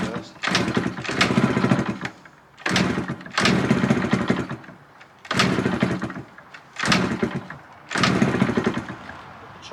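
Small petrol engine on a cheap road-legal project vehicle, cranked with the choke on: repeated bursts of starter churn and brief catching, five or six loud surges separated by short pauses, close by.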